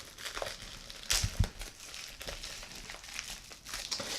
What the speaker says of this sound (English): Let me just rip this all off.